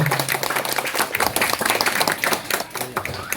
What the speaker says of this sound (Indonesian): Mohon tepuk tangan sekali lagi untuk kita semua.